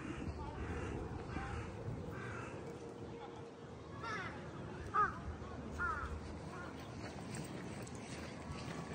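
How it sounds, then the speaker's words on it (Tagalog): Crows in Osaka Ryokuchi Park give scattered, fairly faint caws over a constant outdoor hum, with a voice speaking quietly in the background. "Tingnan nyo guys, ang dami-daming uwak."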